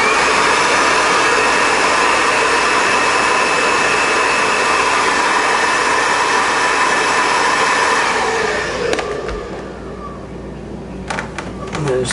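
A heat gun blows steadily while warming the end of a Sliplo scrape guard, a continuous loud whooshing hum that cuts off near the end, leaving faint clicks and handling noises.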